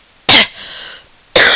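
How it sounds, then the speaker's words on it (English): Two loud, harsh coughs about a second apart, close up, with a faint hum between them and no talking. "sorry, I got a cough"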